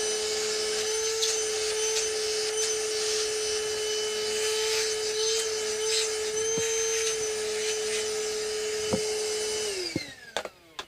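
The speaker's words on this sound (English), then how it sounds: "time to vacuum up a little bit again. This is a good vacuum." A vacuum cleaner without a brush attachment sucks up dust from a guitar headstock repair, a steady loud whine with a constant pitched tone and occasional scraping bumps, then switching off and winding down near the end.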